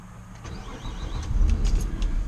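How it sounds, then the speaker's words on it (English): A 2005 Nissan Maxima engine turns over and catches, settling into a steady low running rumble that grows louder toward the end, recorded close by. "Car cranks up and runs great, no flaws."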